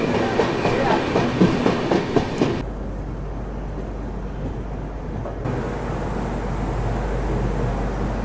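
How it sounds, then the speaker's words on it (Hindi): The Hatia–Pune superfast express passes a railway station in Maharashtra in the rain, with close, rhythmic clatter of wheels over rail joints that cuts off into a low, steady rumble and rushing noise. "प्लेटफॉर्म क्रमांक 2 से अपनी ट्रेन स्किप कर रही है"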